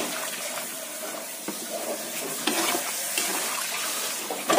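Water poured into a frying pan of fried prawns with dried chilli sizzles and is stirred, a steady close hiss with scraping stirs and a louder surge near the end.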